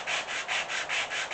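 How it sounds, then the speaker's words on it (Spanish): Medium-grit sandpaper rubbed over wood filler on a wood veneer panel during furniture restoration, about six quick rhythmic back-and-forth scratching strokes, close and clear with no talk. "Vamos a lijar madera con una lija de grano medio"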